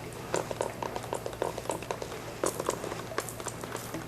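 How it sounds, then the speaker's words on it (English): A squirt bottle sprays water onto a plaster wall being given a distressed faux finish, making a rapid series of light, close spritzing and pattering bursts with no talk over them. "I can also take my squirt bottle and kind of like a light trigger, and I'm going to kind of create these water drips"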